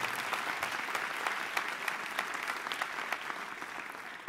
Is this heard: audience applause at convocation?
yes